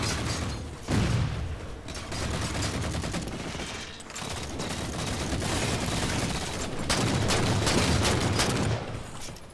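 DMR rifle gunfire in Halo 4 rattles out in rapid, overlapping bursts over a continuous, noisy game soundscape, with sharper volleys near the start and the end.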